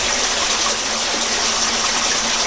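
Water pouring and splashing steadily from a spring inside Madakkulam Cave in Kannur, a loud, close, continuous gushing rush with no voices over it.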